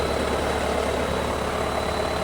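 An irrigation pump engine, jump started and held at 1,000 revs, runs with a constant, even drone and a faint steady whine above it, close and uninterrupted, no talking.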